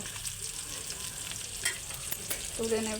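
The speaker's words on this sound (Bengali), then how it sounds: "মাছগুলো ভালো করে লাল লাল করে ভাজা হয়ে গেছে।" Rohu fish sizzling and crackling in hot oil, a steady close frying hiss with a couple of brief clinks and a short tone near the end.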